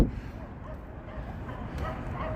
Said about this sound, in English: Hey, people are walking the dogs here.